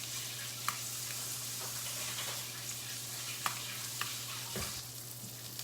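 Blackened tilapia cooks in a pan on a stovetop with a soft, steady sizzle. Occasional small ticks and pops sit over a low background hum.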